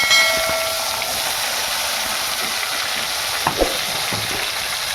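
Chopped tomatoes dropped into hot mustard oil for a fish curry, giving a steady broad sizzle that fades slightly after a brief louder start, with a couple of faint clinks, no talking.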